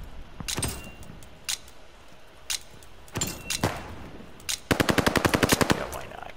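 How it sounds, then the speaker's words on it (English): An MG42 machine gun fires in the video game Call of Duty Vanguard: scattered single shots and short bursts, then a long, rapid rattling burst of about a dozen rounds, loud and close. "Ooh, an MG42."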